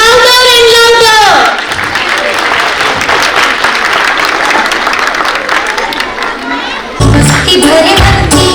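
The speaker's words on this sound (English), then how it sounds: "Let the applause get louder and louder." A large crowd at a children's school annual function claps and cheers loudly, dense applause with children shouting, following a loud announcement over the PA and ending in an abrupt burst of music.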